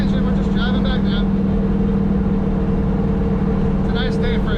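A 1000hp Mazda Miata drives along while towing a trailer, a steady loud low engine and road drone filling the cabin, with people talking over it.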